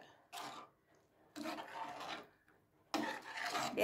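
Three bursts of scraping and rasping as a spoon stirs thick mutton rib bone gravy in a pot, with short quiet pauses between strokes.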